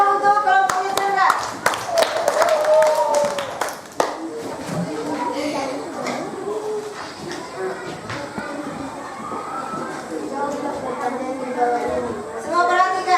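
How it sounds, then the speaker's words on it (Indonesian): Students in a classroom clap for a group of classmates, a burst of close, brisk handclaps for a few seconds that gives way to children chattering and talking. "Tepuk tangan dulu untuk kelompoknya Chandra"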